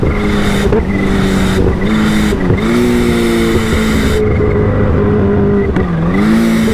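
A Kawasaki Ninja H2 motorcycle accelerating hard in first gear with a new exhaust gives a loud, close engine roar that climbs in pitch, dips briefly and climbs again.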